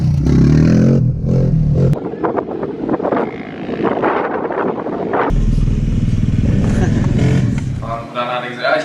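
Motorcycles and quads ride along a beach on Qeshm Island, doing wheelies and donuts; engines drone and rev continuously amid heavy wind buffeting, with other noise mixed in.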